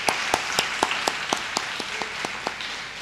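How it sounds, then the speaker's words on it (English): A lecture audience at a diabetes conference claps in a thinning round of applause, with sharp separate claps at a steady rhythm that gradually fade, and no talking. "Can we give him another hearty round of applause?"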